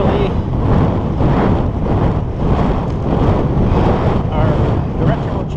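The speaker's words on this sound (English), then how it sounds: "it's already very windy for this time in the morning" Strong wind roars steadily across a bike-mounted camera on a Cannondale F4000sl during a morning commute into a northwest headwind, loud buffeting throughout with no talk.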